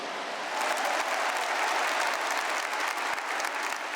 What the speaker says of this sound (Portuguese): Uma salva de palmas à família Canção Nova.